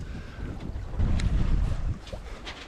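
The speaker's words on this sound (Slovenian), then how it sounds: "Takole jadrava počas, 3-4 vozle, kakor je." A sailboat moving slowly at three to four knots across the open Pacific, steady wash of water along the hull with gusty wind buffeting the microphone, a low churning swell rising and falling throughout.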